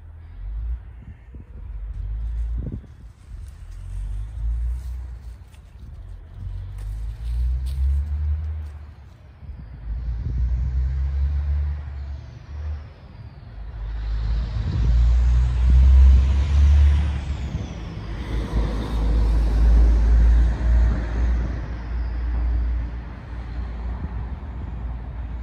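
Road traffic on a quiet road leading to a commuter rail station, with a few vehicles rumbling past one after another, each swelling and fading, and an air brake hiss near the end.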